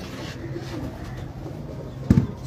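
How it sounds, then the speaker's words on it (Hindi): A pigeon coos briefly near the end, a low burbling call over steady faint background noise. "साजन कबूतर।"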